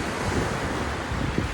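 Ocean surf on a beach in Goa roars as a dense, steady wash, loud and continuous, with wind buffeting the microphone and no voices.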